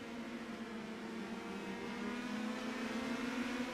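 Indy Pro 2000 race cars in the iRacing video game roaring down the straightaway at Hockenheimring, a sustained buzzing engine drone that grows slightly louder, fairly faint in the mix.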